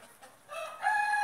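A short rooster call rises out of quiet in a home flock of chickens, a brief soft lead-in followed by a strong, sustained crowing tone, moderately near and alone.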